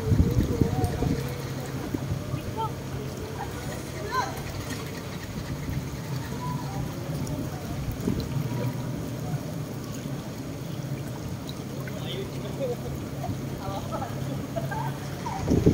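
Deep floodwater on a Manila street in Ermita after heavy rain, a steady churning wash of water with low engine rumble and wind buffeting the microphone, close and continuous.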